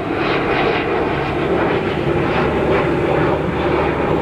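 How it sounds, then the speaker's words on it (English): Airplanes passing overhead close to an airport, heard from a cemetery in Vietnam: a steady, loud engine roar that fills the whole span with no break. "There's also planes flying overhead like every 5 minutes."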